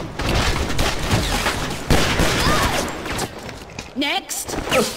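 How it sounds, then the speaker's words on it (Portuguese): Rapid bursts of pistol gunfire in a video game crackle continuously from several directions, loud and dense, with a voice talking over the shooting. "É tiro, Zé, de todo lado."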